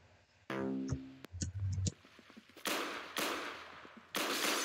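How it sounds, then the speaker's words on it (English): Animated pistols fire in a shooting video game match, several sharp shots spaced apart among game clicks and effect tones, loud and close, with no one talking. "Love the sound of animated pistols."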